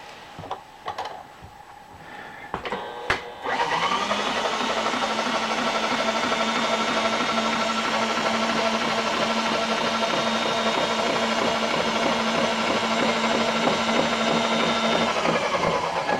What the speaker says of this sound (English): notice how the drill bit kind of walks a little bit